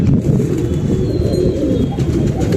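Pigeon cooing, with a steady low murmur of repeated coos running through the whole stretch, close and fairly loud, with no talk.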